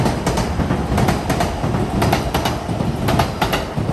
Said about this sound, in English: there's the Narita Express.